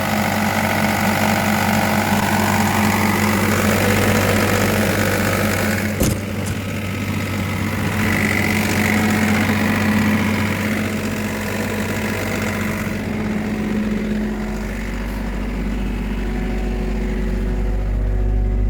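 A car engine idles steadily nearby, a constant low hum and rumble with a brief click partway through.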